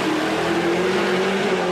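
A NASCAR Canadian Tire Series stock car, driven sideways off a corner, roars past with a steady, loud engine drone that holds a sustained pitch throughout, with no voices.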